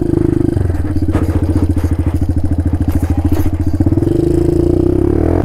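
A dual sport motorcycle rides a dirt trail, its engine droning and pulsing steadily up close, with thumps and clatter from the rough ground mixed in throughout.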